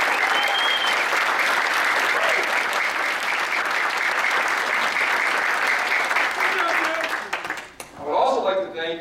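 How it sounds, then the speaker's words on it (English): Wedding guests give a loud, sustained round of applause, dense clapping from a crowd that fades out near the end as a voice begins speaking. "So everyone, please give a round of applause for Mary Kay and Jeff."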